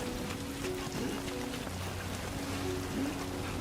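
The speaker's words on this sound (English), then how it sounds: "So we're dealing with the rain. I remember the rain is called Timefall." Steady Timefall rain in Death Stranding 2, a soft continuous hiss of falling drops with low tonal hums underneath, faint and unbroken.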